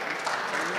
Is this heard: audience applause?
yes